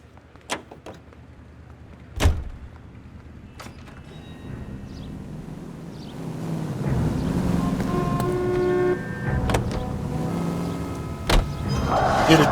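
A car drives in L.A. Noire: a few sharp door-like thumps and clicks at the start, then a low engine rumble builds and holds steady, with occasional tonal accents over it.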